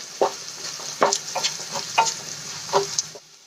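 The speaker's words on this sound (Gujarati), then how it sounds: "મસાલાને આપણે એક મિનિટ માટે સાંતળી લઈશું" Spices sizzle and sputter in a hot pan, with a steady frying hiss and several sharp stirring scrapes at irregular intervals.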